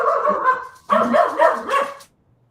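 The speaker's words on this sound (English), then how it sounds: "It's my dog." Several loud, close dog barks in two quick bursts, with a short gap between them, then silence at the end; no speech.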